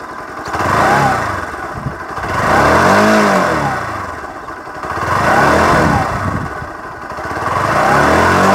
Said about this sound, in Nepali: थ्रोटल दियो भने चाहिँ यस्तो सुनिन्छ.